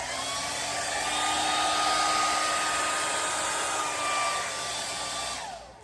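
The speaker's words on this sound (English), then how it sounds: "and then we just blow it off with the hair dryer." A hair dryer blows poured paint, its steady loud whine and rushing air holding close and constant before powering down and fading out at the very end.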